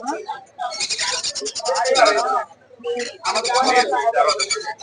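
Caged birds at the Mirpur 1 bird market call in two dense bursts of rapid chirps and whistles, loud and close, with voices talking underneath.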